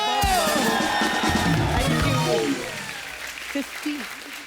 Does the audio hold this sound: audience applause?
yes